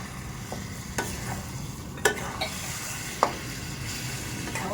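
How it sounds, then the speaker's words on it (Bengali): Potatoes are stirred into a frying spice paste in a pan for aloo dum, a steady close sizzle broken by a few sharp scrapes and knocks of the spoon, with no voices. "এবার একটু নাড়িয়ে দেবো।"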